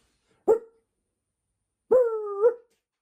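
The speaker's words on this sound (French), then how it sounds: "Et on a le Scottish Terrier." A Scottish Terrier gives two close, clear barks: one short sharp yap, then a longer drawn-out, whining bark about a second and a half later, with silence around them.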